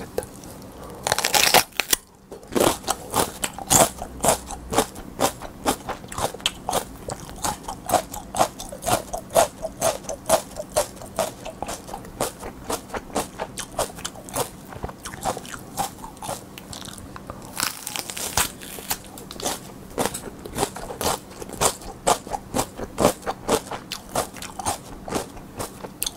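Crisp crunchy bites and chewing of raw mini paprika peppers, a rapid series of close, loud snaps and wet crunches repeating steadily with brief pauses between mouthfuls.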